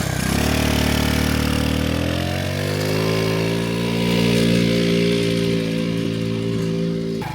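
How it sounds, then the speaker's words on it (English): A small moped engine idles close by with a buzzing, harmonic-rich drone that steps up slightly in pitch after a couple of seconds and then holds steady. "You want to ride my moped? I guess I'll ride it. Here you go. Go before it dies."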